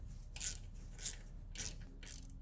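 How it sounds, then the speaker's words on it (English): Four evenly spaced ratchet bursts, each a short crisp clicking run, come from a ratchet loosening a bracket bolt on a 2011 Subaru Legacy 2.5 SOHC. They sound close and fairly quiet, with no talk. "Oh, I'm glad I got the ratchet because there's no way I was going to pull that off by hand."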